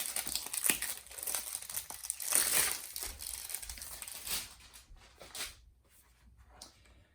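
Crisp crinkling and rustling come from the packaging of Campfire Audio Atlas in-ear earphones being handled close up during an unboxing, in irregular bursts that taper off toward the end.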